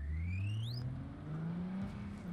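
A car in the video game Cyberpunk 2077 slams into a barrier: a loud, steady engine drone with a rising whine, broken by a sharp impact near the start before the motor keeps humming.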